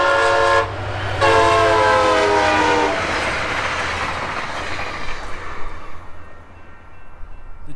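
A train horn sounds in long blasts over the loud rumble and clatter of a train passing close on the tracks, its pitch dropping as it goes by, then fading into wheel noise.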